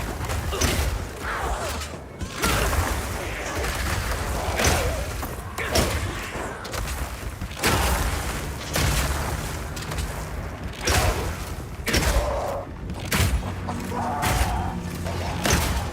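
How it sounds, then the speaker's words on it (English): Burst Shot arrows striking ice walls in Path of Exile 2 produce repeated loud thuds and cracking impacts in bursts, with grinding, shattering textures between them and no pauses of quiet. "fill up this area with ice walls, then shoot them with armor-piercing Burst Shot for a huge amount of damage"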